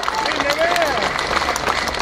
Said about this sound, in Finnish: antakaa Jaakolle vielä raikuvat aplodit, että Jaakko jaksaa